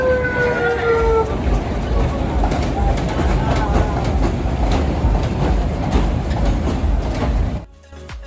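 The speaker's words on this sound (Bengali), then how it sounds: "এখানে ছবি তোলার সময় হঠাৎ ট্রেন এসে যায়" A train rumbling past at a holiday park, loud and close, with a steady clattering roar and a brief horn-like whistle at the start, cutting off abruptly near the end.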